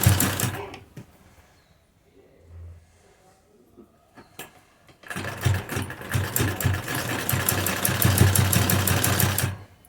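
A sewing machine attaches lace to a kurti tassel. Quiet handling sounds come first, then a close, loud, rapidly rattling run of stitching continues to the end.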